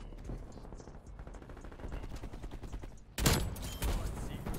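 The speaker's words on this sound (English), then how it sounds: "No, I didn't mean to shoot twice." Gunfire rattles in Call of Duty Cold War, rapid bursts of shots under game noise that jump to a much louder, harsher volley partway through.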